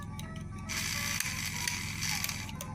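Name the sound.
model steam locomotive running, sounding like a cracked gear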